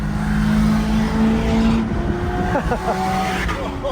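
A Lexus LS400 accelerates hard at High Plains Raceway, its engine droning loud and steady with rising pitch and faint tire noise, heard from the cabin throughout.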